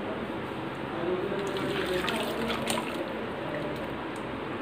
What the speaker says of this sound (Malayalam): നമുക്ക് അരപ്പ് ഒഴിച്ചു കൊടുക്കാം.